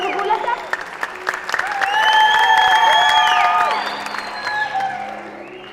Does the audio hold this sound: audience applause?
yes